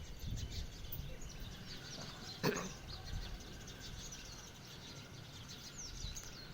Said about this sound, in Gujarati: અત્યારનું વાતાવરણ હાવ શાંત જ હોય છે અને પક્ષીઓનો કલબલાટ સંભળાતો હોય